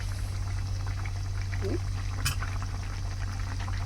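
Milk and paneer gravy simmers in a pan with a low steady bubbling and gentle liquid churn, nearby and fairly even, with a brief clink partway through.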